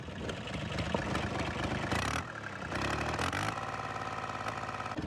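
A motorized blower sprayer engine runs steadily close by while spraying a pomegranate orchard, a rough mid-pitched drone with brief surges and dips in speed.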